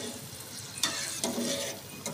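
Garlic frying in oil in a pan gives a faint, steady sizzle, broken by a few sharp scrapes of stirring.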